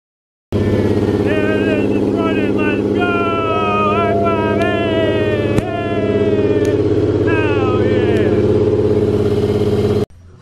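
Toyota 1JZ engine swapped into an R34 Nissan Skyline running with a high idle near 5,000 rpm, a loud continuous droning hum with wavering tones above it, steady throughout and close.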